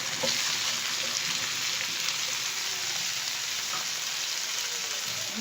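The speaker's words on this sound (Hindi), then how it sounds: "ये अच्छे से जिंजर गार्लिक पेस्ट फ्राई हो गया। अब ये सब्ज़ी हम इसमें ऐड कर देंगे।" Ginger garlic paste fries in hot oil in a pan for a ridge gourd curry. A faint, even sizzle continues alone throughout.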